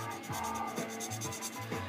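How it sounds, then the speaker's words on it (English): Hand sanding with light pressure during a rusting paint technique, a soft, light scratchy rub, repeated strokes in a steady back-and-forth rhythm, close and fairly quiet. "You don't push real hard with your sanding"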